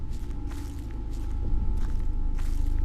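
Footsteps in the Slender video game, several soft crunching steps at a steady walking pace over a constant low drone and faint tone, moderately close and with no voices over them.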